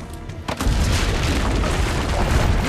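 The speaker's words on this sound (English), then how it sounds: "Use the cannons above the rampart." Cannons fired from a rampart in Assassin's Creed Brotherhood, a loud booming blast that kicks in suddenly and rolls on as a dense, sustained low rumble of explosions.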